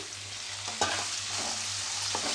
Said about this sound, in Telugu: ఇప్పుడు మనం ఉల్లగడ్డలు వేస్తాం కదా దాంతోపాటు ఎర్రగడ్డలు కూడా వేగిపోతాయి